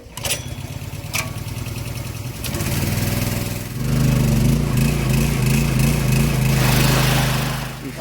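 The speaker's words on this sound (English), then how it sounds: "Both of these are pretty grimy, so I'm going to hit them real quick with the pressure washer" A pressure washer cleaning grimy engine mounts from a 2012 Chevy Equinox: a close, loud motorized whine that starts low, then swells into a steady, buzzing drone with a jump in intensity partway through, running continuously without speech.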